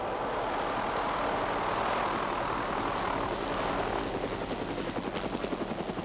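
A police helicopter roars nearby during a raid on a marijuana farm, its rotor thumping in a steady rapid chop that grows more distinct toward the end.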